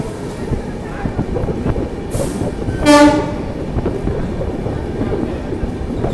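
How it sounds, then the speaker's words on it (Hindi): A South Bihar Express train pulling into platform three at Danapur station, rumbling wheels under a brief loud horn blast from a passing train, with station crowd noise and voices in the background. "तीन नंबर प्लेटफॉर्म पे लाया गया हमारी ट्रेन को दानापुर।"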